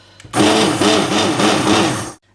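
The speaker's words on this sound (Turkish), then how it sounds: "güzelce parçalayana kadar blenderdan çekiyoruz arkadaşlar" A hand blender purees ezogelin lentil soup in a pot, a loud whirring burst lasting about two seconds with a pulsing churn before cutting off, no talk.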